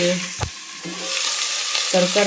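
Vegetables cooking in a pan, with a loud close sizzle and frying hiss throughout, joined by a few brief low thumps and short tonal hums.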